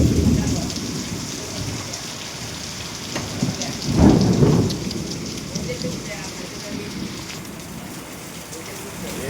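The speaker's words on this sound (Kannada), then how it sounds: "ಮಂಡ್ಯದಲ್ಲಿ ಮೊದಲ ಮಳೆ" The first rain of the season in Mandya pours down steadily, with a brief louder rumble or gust in the middle before settling back to a constant wash.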